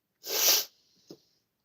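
A single loud, close sneeze bursts out, followed by a short sniff, then quiet.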